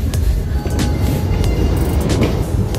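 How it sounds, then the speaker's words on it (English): A train bound for Montreux, Switzerland, rumbles into a station, a steady loud low rolling roar with faint metallic squeals and clanks above it, no voices. "My train is going to Montreux. It's coming."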